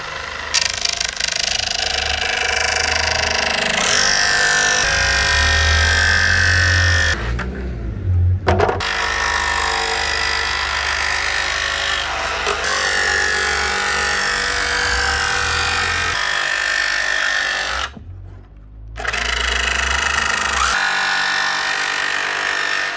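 A power tool cuts aluminium panels in the side of an Iveco Daily van being converted from a prison transporter into a camper, a loud, steady grinding whine running continuously with two brief pauses, no talk.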